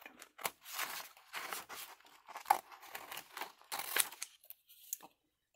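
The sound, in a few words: cutting out a pressed image piece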